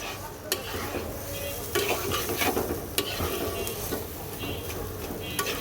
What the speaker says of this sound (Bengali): সব কিছু আবার সুন্দর করে মিক্সড করে দিলাম